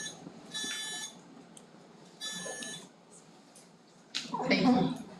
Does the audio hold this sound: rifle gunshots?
no